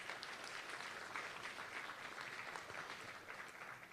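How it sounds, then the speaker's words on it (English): Applause from a live Law Day audience welcoming former Secretary of Defense Leon Panetta, a soft, even wash of many hands clapping heard from a distance, sustained throughout without voices. "Big round of applause, please."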